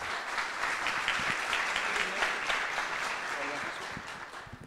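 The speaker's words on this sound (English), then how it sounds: "let's give a warm round of applause for Eric Hansen" An audience applauds steadily to welcome speaker Eric Hansen at a conference session, dense clapping holding for the whole stretch with a few murmured voices underneath before it starts to thin at the end.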